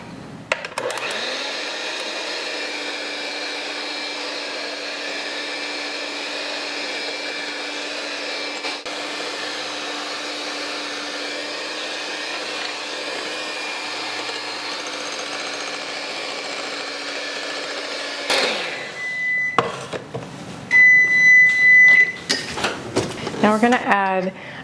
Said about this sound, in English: Mary Berry says to whip them until stiff peaks form